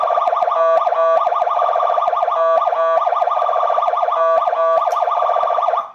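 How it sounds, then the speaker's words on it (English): Powercall UDX7 emergency siren cycling through loud, rapid warbling and yelping tones, a continuous, close electronic wail that runs without a break before cutting off abruptly at the end. "So those are all the sounds of the Powercall UDX7 Emergency Siren."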